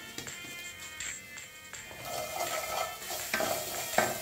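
Asafoetida goes into a sizzling tempering in a pan for Gujarati kadhi, with a quiet sizzle, a few clinks of a utensil, then a louder burst of frying that swells toward the end.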